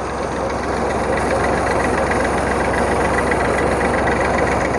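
Tractor-driven tubewell boring machine running at a drilling site, a loud continuous engine drone with a steady low throb and mechanical rattle, constant and close, with no talk.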